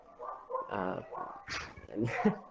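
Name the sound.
dog barking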